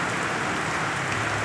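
Heavy rain pours in a flooded street, a steady dense hiss of water with no pauses, close and continuous.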